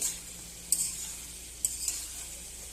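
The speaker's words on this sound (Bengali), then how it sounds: "এইভাবেই খুলেই একটু ভেজে নেব" Prawns with potato and pointed gourd fry in an uncovered pan, a steady soft sizzle with a few brief clinks of stirring, close and moderately quiet, no voices.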